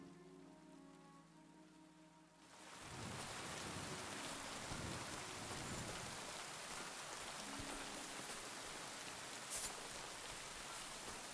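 Rain in the video game Kingdom Come Deliverance 2 starts after a quiet musical passage, swelling into a steady, dense downpour with a faint thunder rumble and one brief sharp knock.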